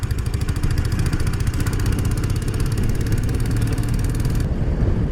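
A 2007 Royal Enfield Bullet 500 Classic motorcycle being ridden, its single-cylinder engine thumping loud and steady with a continuous low rumble and wind roar, close to the mic, with no talking.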